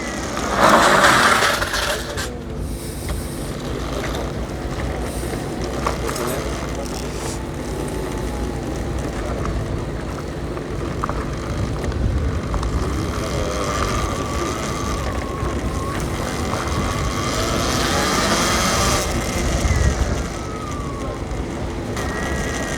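Two electric motorbikes, an ELEEK Atom Military and a Talaria Sting, run under throttle with a steady outdoor rush of motor and wind noise. A thin electric whine rises and falls midway and toward the end.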